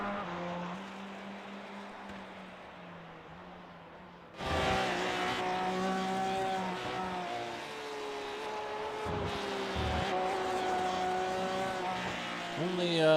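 An LMP2 or GTE race car laps Circuit of the Americas in iRacing, its engine droning steadily before a louder, nearer engine note cuts in and keeps revving and shifting, with commentary over it.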